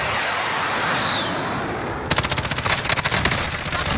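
A Call of Duty Warzone airstrike: a steady broadband roar gives way to a loud, rapid volley of sharp, close repeated blasts that rattle on for the last two seconds, with no voices.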